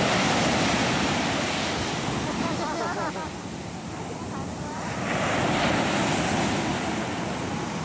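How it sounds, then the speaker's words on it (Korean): Large ocean waves crash and surge onto the shore in Korea, a roaring continuous wash with wind buffeting the microphone, swelling back up after a brief dip. "파도가 와 엄청나다"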